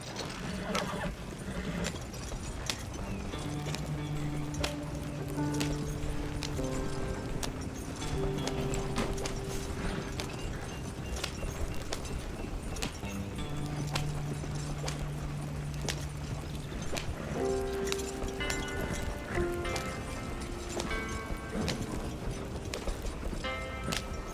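A horse gallops in Red Dead Redemption with a steady, rhythmic clatter of hooves and occasional whinnies, over music and faint game sounds, with no clear speech.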